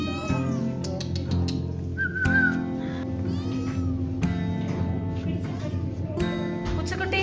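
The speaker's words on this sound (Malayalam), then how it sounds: "പൂച്ചക്കുട്ടി" A kitten gives several short meows during an outing in Ooty. They are heard under overlapping chatter from a group of people, with a brief whistle-like tone partway through.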